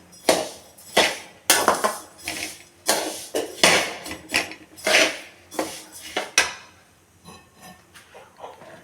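Homemade cerelac baby food dry roasting in a pan, with a utensil scraping and knocking against the metal in repeated sharp, irregular strokes about every half second, close and fairly loud with no talk.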